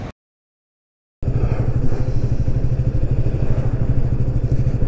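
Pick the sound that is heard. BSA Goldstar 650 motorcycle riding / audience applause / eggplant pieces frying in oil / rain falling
BSA Goldstar 650 motorcycle riding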